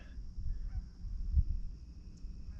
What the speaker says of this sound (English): Geese are flying south.